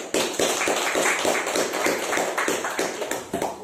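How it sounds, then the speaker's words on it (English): A dense burst of audience applause at a speakers forum, with many hands clapping steadily and fairly loud for a few seconds and no voices on top. "Give a big round of applause for"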